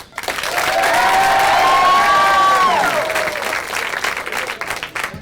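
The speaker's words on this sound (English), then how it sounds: "Yeah, it's always that party that's out of office currently that applauds louder" A stand-up comedy club crowd breaks into loud sustained applause with cheering and whoops, swelling over the first seconds and then tapering off.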